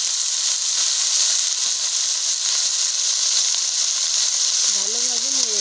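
Bottle gourd pieces with turmeric and salt sizzle steadily in a hot pan, a continuous loud hiss of frying that holds throughout, with a brief voice-like tone near the end.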